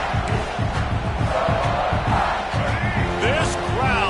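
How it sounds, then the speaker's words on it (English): A full stadium crowd in a college football video game roars loudly and continuously, with swelling cheers and a commentator talking over the din. "This crowd full throat, spreading the eardrums and letting them know it's going to be a long day."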